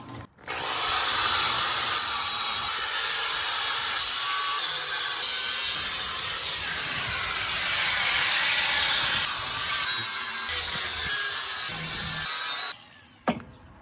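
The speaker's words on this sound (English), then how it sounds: "Now I'm gonna grind it so it's all smooth." An angle grinder smooths welds on a steel plate for a truck's bed sides, a steady continuous whir that holds loud and unbroken for most of the stretch, then tapers into brief scrapes and clicks before stopping.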